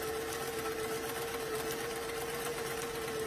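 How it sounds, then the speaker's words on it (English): A sewing machine runs continuously, top stitching the contrast edge of a doll-size beach bag, a close, even mechanical whir with a steady pitch. "you can go ahead and top stitch it"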